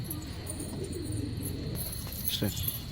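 Desi pigeons coo in soft, repeated throaty warbles close by, with faint chirps above and a steady background hum.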